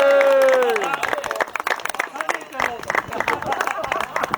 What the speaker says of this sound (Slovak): Takže ešte raz potlesk pre finalistov Radko